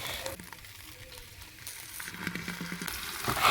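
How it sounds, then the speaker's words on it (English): Cooking oil poured into a hot pot sizzles and crackles softly, a quiet, steady frying hiss that builds slightly toward the end. "After emptying my pot, I'm going to go ahead and add some cooking oil."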